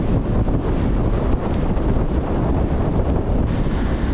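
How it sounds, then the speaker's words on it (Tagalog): Powerful typhoon wind blasts constantly across the microphone at a seaside campsite, a heavy unbroken roar with a rushing, surf-like texture and no pauses; no rain yet. "malakas ang hangin pero wala pang ulan."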